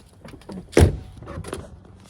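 A 2009 Mini Cooper S door opens or shuts with a single close, solid thunk in the middle, set against faint background noise and a few small rattles, the window glass shifting slightly as it moves.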